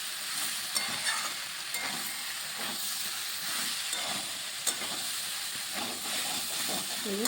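Beans, eggplant and potato curry being mixed in a pan, heard as a soft, steady hiss and sizzle with faint scraping of a stirring spoon throughout.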